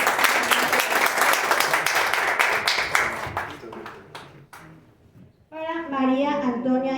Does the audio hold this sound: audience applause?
yes